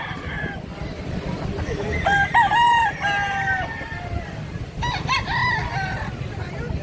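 Roosters crow loudly and close at a busy poultry selling area in Danao, Cebu, with two drawn-out cock-a-doodle-doo calls separated by a pause over a background of clucking hens and crowd noise.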